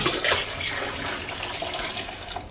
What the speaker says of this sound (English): I'm going to add a gallon of water